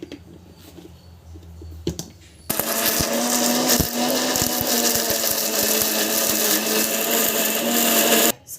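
After a short quiet stretch, a mixer grinder starts up loudly, grinding mint chutney, whirring steadily at high speed for several seconds before abruptly stopping.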